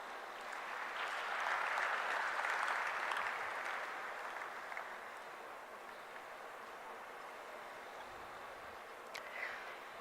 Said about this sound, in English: Let us appreciate the presence of our honored guests and their contributions with a huge round of applause.